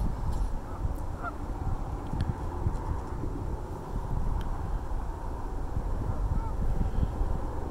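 Swans about 35 yards away outdoors give faint, intermittent honking calls, soft and distant beneath a steady rumble of wind.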